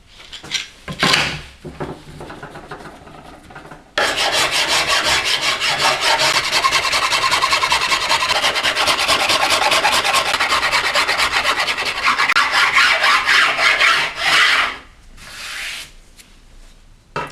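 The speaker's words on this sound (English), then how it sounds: "using a circular saw, I'll make the first cut, which will be all the way along the stock" A circular saw rips lengthwise along a wooden speargun stock, a loud continuous rasping cut of about ten seconds after a few shorter bursts, with no speech.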